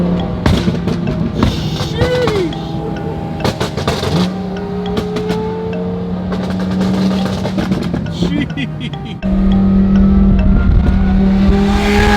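A sports car engine revs and roars up close, pitch climbing and settling, with brief voices mixed in and a louder surge near the end.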